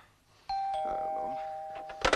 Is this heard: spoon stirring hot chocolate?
no